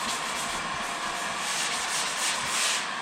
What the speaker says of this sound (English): you see I'm not sanding it crazy